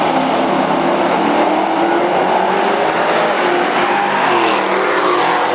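A Ford Mustang and a Chevy truck rev their engines loudly and continuously, a dense roar that climbs and shifts in pitch through several seconds, with no pauses or talk.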